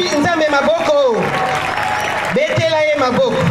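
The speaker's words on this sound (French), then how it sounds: "Est-ce qu'on peut acclamer Dieu pour ce temps?" Church congregation applauding to praise God, a steady wash of clapping with voices speaking over it near the start and again near the end.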